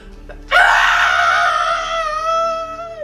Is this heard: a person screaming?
yes